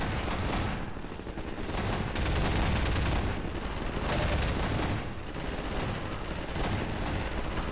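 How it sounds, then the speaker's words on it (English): Mounted guns fire continuously in the Defendville map of a video game, a dense, loud, sustained barrage of overlapping shots with rumbling impacts throughout and no pauses. "these smaller mounted guns aren't quite as effective as the minigun"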